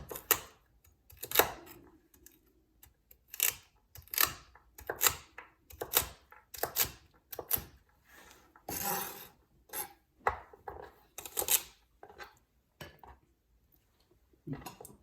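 A knife dicing celery on a cutting board, with crisp, close, irregular chops in quick clusters and short pauses over about fifteen seconds, and no talking.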